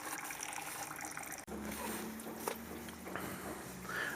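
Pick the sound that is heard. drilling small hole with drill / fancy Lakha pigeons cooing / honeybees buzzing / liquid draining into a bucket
liquid draining into a bucket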